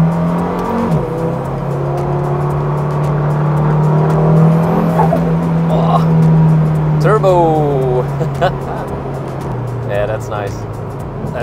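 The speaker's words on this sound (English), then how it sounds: "Never get used to the sound of a 5-cylinder engine." A KTM X-Bow GT-XR's turbocharged five-cylinder engine drones steadily under load during hard driving, loud and close inside the cabin, with brief whooshes as revs shift. Someone talks excitedly over the engine throughout.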